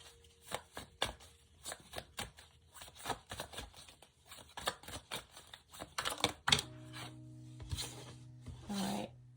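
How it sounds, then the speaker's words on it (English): Tarot cards are laid out one after another on a surface, making a quick series of crisp slaps and snaps with short pauses between them, followed by softer shuffling rustles under a low hum. "Just gonna lay all the cards out."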